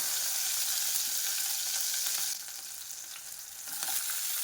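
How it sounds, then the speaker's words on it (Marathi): Chopped garlic and green chili sizzle steadily in hot oil in a pan while a pasta dish is being made, with the frying noise briefly settling and then swelling again near the end, with no talking. "तेल तापले की आपल्याला त्यामध्ये कट केलेलं लसूण घालायचं आहे"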